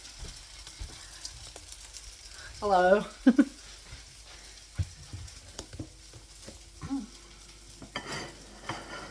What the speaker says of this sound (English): See it's frying away.